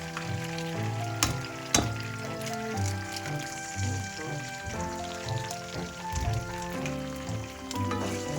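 An egg frying in a hot pan for Filipino sinangag stir-fried rice with mixed vegetables: a steady crackling sizzle running throughout, close and fairly loud, with a few sharper pops and clinks of utensil against the pan.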